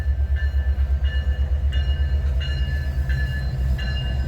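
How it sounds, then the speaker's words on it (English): Late-running Amtrak Empire Builder number 8 led by CP locomotive 2239, a loud low diesel rumble with a steady pulsing rhythm and repeated metallic ringing tones, close by with no talk. "the late-running Amtrak Empire Builder number 8"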